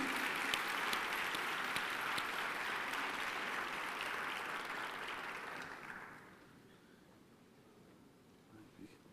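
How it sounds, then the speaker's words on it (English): An audience at a national town hall meeting applauds in a broad, steady wash of clapping that fades out after about six seconds, leaving quiet room noise with faint rustles. "Now you can applaud"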